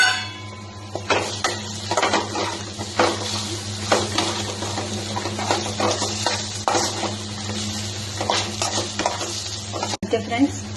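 Curry leaves dropped into hot oil in a home kitchen, giving a steady sizzle with light stirring and utensil clinks, under a constant low hum and a voice speaking throughout.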